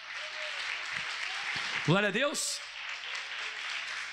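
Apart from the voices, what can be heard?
congregation applause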